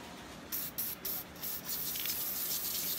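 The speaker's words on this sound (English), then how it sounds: "we're going to take a Tri-Flow aerosol lubricant. You got to shake it up, and we're going to spray this hook down" Tri-Flow aerosol lubricant sprayed onto the hook of an old-style Bernina 830 sewing machine: a few short hissing bursts, then one longer steady spray, close and fairly loud, with no talking.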